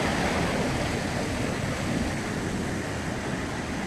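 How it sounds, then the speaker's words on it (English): Water from a clarifier tank pours into an aeration tank at a sewage treatment plant, a steady, loud, broadband rushing that stays constant throughout with no talk. "this is water coming from the clarifier tank"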